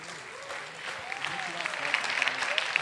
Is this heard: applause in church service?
yes